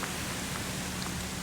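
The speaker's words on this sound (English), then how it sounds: "it's still drizzling slightly" Light drizzle on a countryside walk from Darton to Dodworth, a steady soft hiss of fine rain pattering without pause and no voices.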